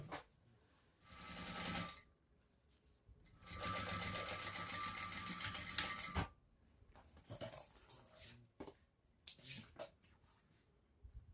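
A sewing machine top-stitches pieces of a shoulder bag in two bursts, a short run and then a longer steady run of rapid stitching, close and loud, with quiet handling noises between.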